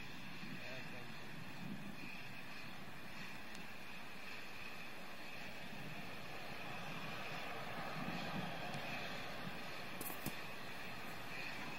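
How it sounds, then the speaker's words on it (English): Steady, distant roar from Space Shuttle Discovery's three main engines during ascent into second stage, faint and continuous with radio-style talk over it. "Discovery's three engines now powering the second stage."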